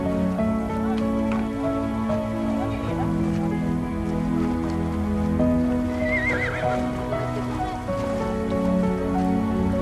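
Horses at Appleby Fair, a traditional horse fair, with one short whinny rising above a steady outdoor din of hooves, rain-like patter and general crowd noise.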